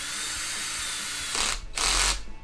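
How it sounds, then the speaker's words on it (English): Power drill setting a CVD part on a Traxxas Rally RC car: quiet workshop background, then two short close whirring bursts near the end, the second longer and louder. "So don't trip out watching me set that with a drill."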